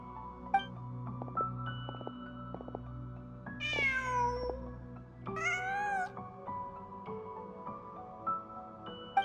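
A cat in Genshin Impact meows twice, two distinct drawn-out cries a couple of seconds apart over soft ambient game music, fairly close and clear, with no talk.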